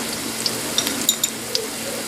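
Minced garlic frying in a pan alongside onions, a loud steady sizzle with a few light taps of a utensil against the pan, close and without voices.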